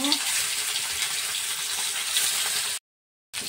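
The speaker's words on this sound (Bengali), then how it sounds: "মাছটা ভেজে নেব।" Turmeric-and-salt-marinated fish, pabda or bele, fries in hot oil with a steady, dense sizzle, close and continuous, broken by a brief cut to silence near the end.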